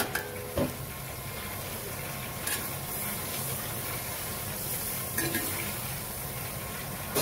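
Onion roasting on a hot tava for a spicy cowpea-and-potato curry, a steady broadband sizzle holding throughout with a few brief utensil scrapes and clinks standing out near and clear.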